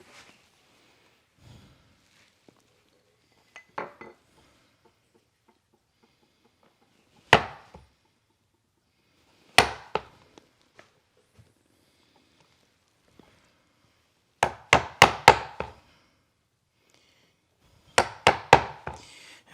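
Chisel chopping waste from hand-cut splayed dovetails in wood, with sharp isolated knocks that come in quick bursts of three to five strikes and spaced single blows between them, close and fairly loud in a quiet room.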